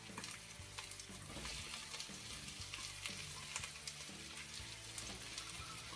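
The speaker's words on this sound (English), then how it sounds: "Now getting these onions fried up" Onions and peppers fry for a homemade curry, giving a continuous, fairly quiet sizzle with a low hum underneath and no talking.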